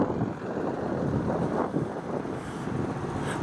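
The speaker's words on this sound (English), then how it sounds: "the wind's picking up a little bit" Strong wind buffets the microphone outdoors beside a parked 1998 Gulfstream Sun Voyager diesel pusher motorhome, a steady rumbling roar that swells and eases, with no talking.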